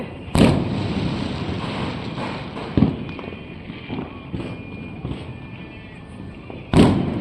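Diwali fireworks go off from a rooftop terrace: three sharp, loud bangs spaced several seconds apart, with fainter pops and crackles between them and a thin whistle-like tone in the middle.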